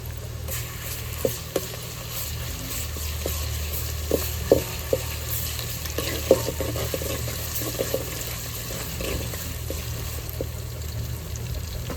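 Chilies frying in oil over a wood fire, a steady soft sizzle with scattered crackles and pops from the cooking, fairly quiet and without talk.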